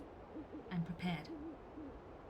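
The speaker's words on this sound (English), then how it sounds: "I think the owl is prepared too." A soft owl hoot sounds twice in I'm On Observation Duty 6, faint and somewhat distant over a low, quiet ambient hum.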